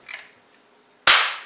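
KTW flintlock airsoft gun firing a pellet: a faint mechanical click first, then a single sharp, loud crack that trails off quickly.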